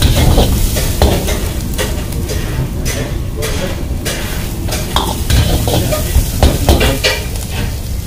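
Onion, capsicum, garlic and chilli stir-fried for Manchurian at a busy Chinese food stall, a loud continuous sizzle with rapid rhythmic clanks and scrapes of a ladle against the wok, no talking.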